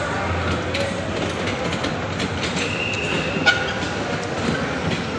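A toy train carrying a child through an electronics area of a shopping mall rolls along with a steady rumble and clatter, faint squeals and beeps on top, close and continuous.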